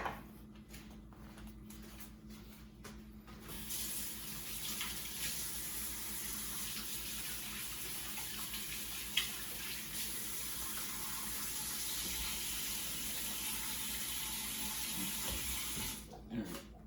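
A kitchen sink tap runs steadily while hands are washed beneath it, a continuous broadband water hiss lasting most of the stretch, with brief handling knocks before it starts and as it shuts off.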